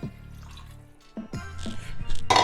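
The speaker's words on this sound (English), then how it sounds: "So we're gonna throw 1 cup of water" A cup of water is poured into a pressure cooker while making turkey spaghetti, giving a short splashing and dripping sound that grows louder toward the end, with no talking.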